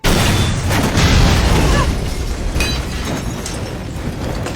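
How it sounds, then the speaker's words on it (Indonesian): A car blows up in a movie scene, a loud deep boom with rumbling debris that slowly fades over a few seconds. "semua yang ada di mobil meledak dan tewas"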